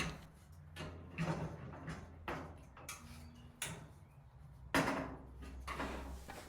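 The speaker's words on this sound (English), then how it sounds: "Now I'm installing the door." Someone fits the door onto an outdoor gas fireplace during assembly: a close series of sharp clicks, taps and hollow knocks at irregular intervals, with a soft rumble between them and no talking.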